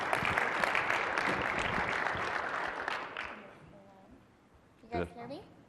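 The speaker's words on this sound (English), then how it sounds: "Little applause to her." Audience applause greets a speaker taking the stage at a SharePoint business conference, a dense clatter of clapping that fades out over a few seconds before a brief voice at the end.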